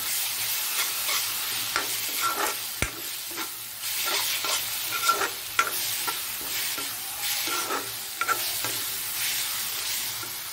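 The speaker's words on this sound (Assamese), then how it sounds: "এতিয়া মই মছলাখিনি বঢ়িয়াকৈ ভাজি ল'ম।" Spice masala fries in oil in a pan while being stirred, a continuous close sizzle punctuated by repeated scraping and clinking strokes of the spatula.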